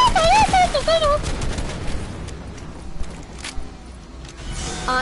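Rapid bursts of gunfire from the video game Fortnite crackle under a loud, excited voice, with a whistling effect at the start and scattered sharp shots after.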